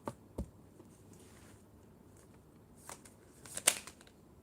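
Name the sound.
shuffling tarot cards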